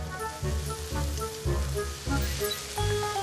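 Chopped tomatoes and lentils stir-fry in a pan with a steady, close sizzle that swells in short bursts as the ingredients are tossed, over a faint tonal background.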